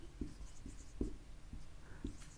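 Chalk writing on a classroom board during an English grammar lesson, with a series of soft, evenly spaced taps and scratches, faint and close, and no talking.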